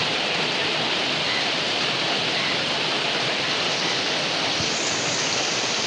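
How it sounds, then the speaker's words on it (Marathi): A heavy, hours-long downpour in a Konkan village roars as a constant loud wash of rain on surfaces, an even, unbroken hiss with no talking. "दोन तास झाली पाऊस पडता भयंकर पाऊस आहे बघा"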